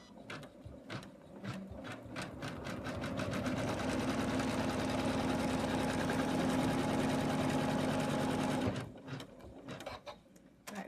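A computerized embroidery machine stitches fabric for an in-the-hoop snowman stocking, a steady rapid mechanical chatter running for about eight seconds at close range before stopping, with a few clicks and handling noises after.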